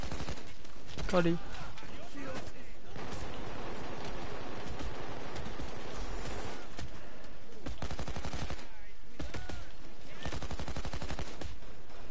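A slow Western gun in Payday 2 fires repeatedly in sharp, loud cracks with gaps between them, mixed with other gunfire, while someone talks throughout.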